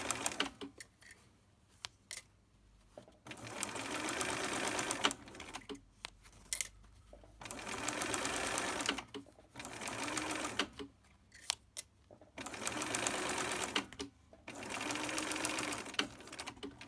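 A sewing machine stitches a fabric face mask with elastic ear loops in short, repeated close bursts with brief pauses between runs of stitching, steady and fairly loud, no talking over it.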